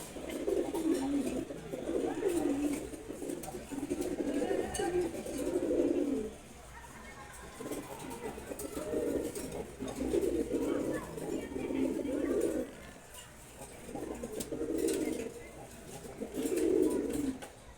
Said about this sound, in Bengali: দেখেন কবুতরটা খুব সুন্দর।